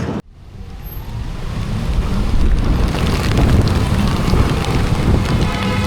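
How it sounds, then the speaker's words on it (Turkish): Hail falling outdoors during an unexpected storm, a dense, continuous roar of pelting ice that starts abruptly and stays loud and steady throughout, with wind noise buffeting the microphone. "dolu yağıyor"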